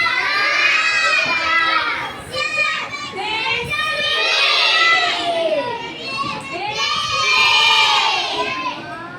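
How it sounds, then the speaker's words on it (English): A class of young schoolchildren screaming together in waves, loud, high-pitched shrieks from many voices at once, rising and falling over several seconds with brief dips between bursts. "Now I can see the class is screaming."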